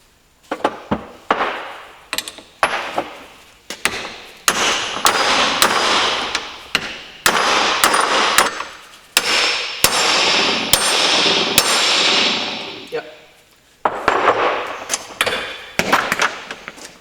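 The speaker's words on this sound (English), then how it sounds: "we're going to just use a hammer" Repeated metal hammer blows ring out loud and close, driving a front suspension bushing out of a Subaru, a steady series of sharp clanging strikes with brief pauses between bursts.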